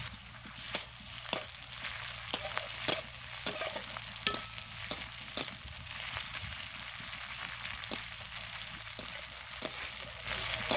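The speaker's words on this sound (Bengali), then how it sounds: "আদা রসুনকেও ভেজে নেব" Ginger-garlic paste fries with softened onions in a pan for a fish curry, giving a soft continuous sizzle broken by regular scraping strokes as it is stirred.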